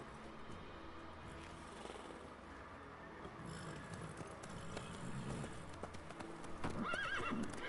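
Horse hooves clip-clop steadily in The Witcher 3, with a whinnying neigh rising near the end over a constant outdoor game ambience.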